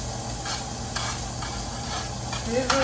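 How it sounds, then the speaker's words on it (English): Chopped onions sizzle in a hot frying pan with oil for a vegan chili, a steady close frying hiss with faint stirring scrapes, no voices. "Sizzle. Gotta hurry up because this is onion. These are onions."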